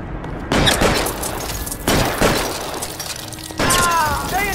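Bursts of gunfire in the video game L.A. Noire come in loud repeated volleys separated by short gaps, with shouted voices underneath.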